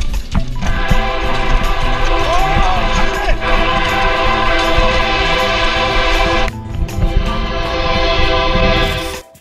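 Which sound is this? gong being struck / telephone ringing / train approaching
train approaching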